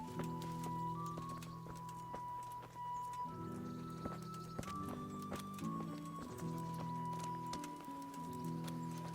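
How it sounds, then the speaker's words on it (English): Horse hooves clip-clop in a steady walking rhythm over a sustained musical backdrop, fairly faint, in the video game Kingdom Come: Deliverance. "Enough talk. Let's mount up."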